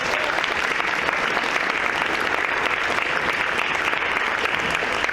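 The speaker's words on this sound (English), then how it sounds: "one more round of applause for all the incredible award winners" An audience at an awards ceremony for cultural access gives the award winners a round of applause, dense and steady clapping that fills the room from start to finish.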